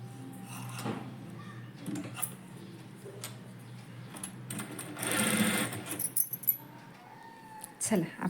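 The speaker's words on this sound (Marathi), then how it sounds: "हे अस्तर त्याच्यावर ठेवणार आहे आणि इथं शिलाई मारून घेणार आहे" Sewing machine stitching a lining onto a net puff sleeve: rapid mechanical whirring runs in bursts of varying length with ticks and clicks between them, close by, while someone talks throughout.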